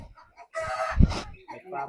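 A turkey's gobbling call rings out near and loud on a farm, a rising harsh squawk amid farmyard clucking, with faint background voices.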